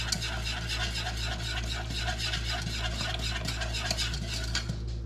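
A whisk works roux into a simmering cream beef sauce for Army-style SOS, a continuous fast rattling whisk against the pot over a low hum, moderately close and fairly quiet.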